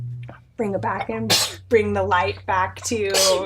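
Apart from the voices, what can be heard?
sneeze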